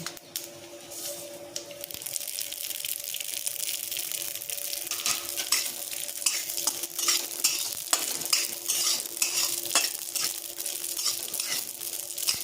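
Whole garam masala, cumin and poppy seeds frying in a pan for a vegetarian Bengali eggplant dish, bright crackling sizzle with repeated scraping of a spoon stirring the spices, steady and close throughout.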